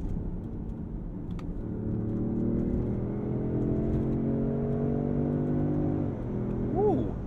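A 2023 Range Rover Sport engine revs through paddle-shifted gears in manual mode, a steady sustained drone with a couple of quick pitch dips and a rising blip near the end as shifts land.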